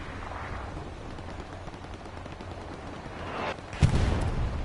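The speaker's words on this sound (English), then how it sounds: "Good hits for artillery." Artillery shells land on targets in a tank combat game: a low rumbling battlefield bed builds to a heavy, loud impact boom near the end, followed by a lingering rough rumble.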